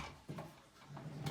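A lockable desk drawer that comes apart from its desk slides open or shut with a couple of soft wooden bumps and scrapes, quiet and close.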